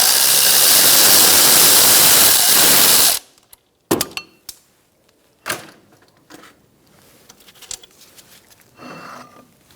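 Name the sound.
removing brake caliper bracket bolt on 2004-2009 Mazda 3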